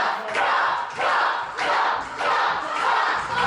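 A crowd at a street wrestling match roars in repeated swelling waves, loud and massed, each surge rising and falling about once a second like a rhythmic chant.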